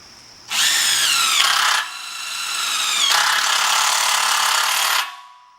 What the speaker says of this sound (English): this is a 5/16 socket for driving these screws